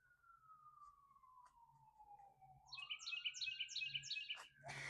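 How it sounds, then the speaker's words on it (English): Quick repeated bird chirps ring out over a distant wailing siren that slowly falls and rises, all fairly faint and with no voices. "The birds are bananas and love this weather."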